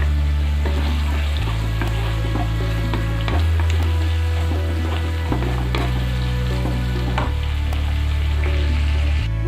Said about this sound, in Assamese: এতিয়া মই ধুনীয়াকৈ এইখিনি ভাল কৰি ভাজি ল'ম